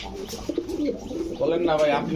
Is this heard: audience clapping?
no